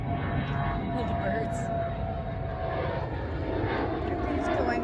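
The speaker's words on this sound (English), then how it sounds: "It's going up into the sky. That's a private jet." A private jet taking off from Philadelphia International Airport, its engines producing a loud, steady broadband roar that holds throughout while people talk nearby.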